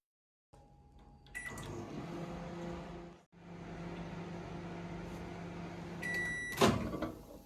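A microwave oven grills masala bhindi on a tawa set on the high rack, giving a steady low hum with the fan running. Light clicks and a short beep come near the end.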